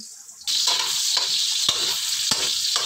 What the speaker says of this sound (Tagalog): Ang niluluto po pala ni Bombay ay spaghetti